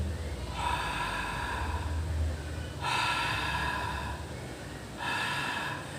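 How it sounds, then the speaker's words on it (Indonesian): A person breathes in and out through the open mouth, with three distinct breathy exhales and inhales spaced a couple of seconds apart, close and fairly quiet, with no speech. "Hembuskan napas dan tarik napas hanya melalui mulut"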